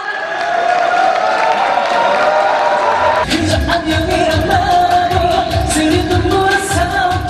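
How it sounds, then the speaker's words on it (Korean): Studio audience applause and cheering greet a K-pop idol, a loud burst of clapping and whoops breaking in suddenly and holding steady over background music. "큰 박수 부탁드립니다"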